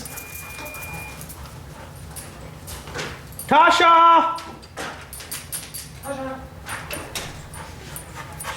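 Doberman Pinscher puppies give a loud burst of high, wavering whimpers and yips near the middle, plus fainter yelps later, while people talk nearby indoors.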